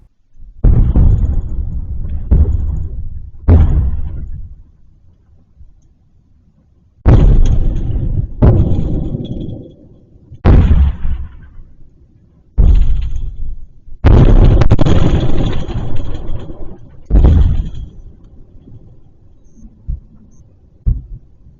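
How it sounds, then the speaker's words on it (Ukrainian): A series of heavy, booming ballistic missile explosions over Kyiv, some rumbling out over a few seconds, separated by short quiet gaps, loud and forceful. "Містяни прокинулись від звуків вибухів"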